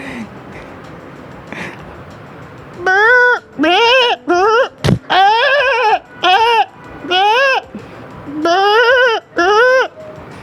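A voice imitates a goat's bleating, a series of wavering, nasal bleats repeated close up with short pauses between them.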